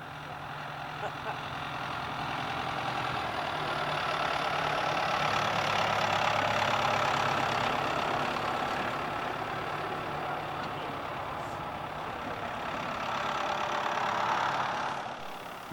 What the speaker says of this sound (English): a vintage tractor is at work in the fields